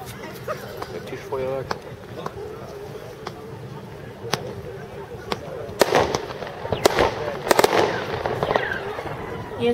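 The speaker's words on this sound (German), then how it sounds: "Weiter JW 4081, Silvesterfeuerwerk, 25 Schuss." New Year's fireworks battery JW 4081 firing 25 shots, a run of sharp close bangs and crackles that grows denser and louder toward the end, with a voice speaking over the early part.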